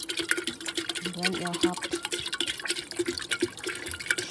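Filtered water pours into a vessel while preparing water kefir, a light trickling splash running close by under a person speaking.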